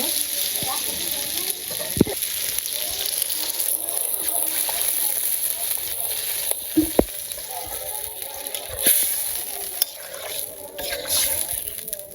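Vegetables sizzle steadily while being sautéed in a pan in a village kitchen, a continuous broad hiss with occasional clinks and stirring knocks, with faint talk in the background.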